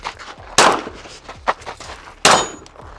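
A Rost Martin RM1S pistol fired on a range: two loud, sharp shots about two seconds apart, each with a ringing tail, plus a fainter crack and metallic clinks between them.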